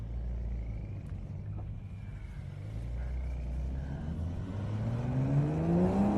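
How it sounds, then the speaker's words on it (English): A Porsche 911 turbo engine hums steadily, then its pitch rises smoothly as it revs up, with a rising turbo spooling whine building toward the end. "once the turbos spool up, you can hear it in the background"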